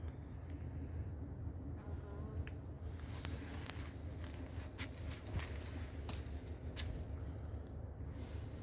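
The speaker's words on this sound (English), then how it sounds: "Nasty bees, these, they just come out and sting the life out of you." Steady insect buzzing, like bees droning nearby, with faint intermittent clicks and no voices.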